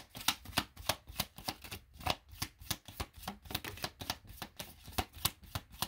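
Tarot cards are shuffled close by in a steady run of soft, crisp riffling flicks, repeating evenly at a moderate pace with no talking.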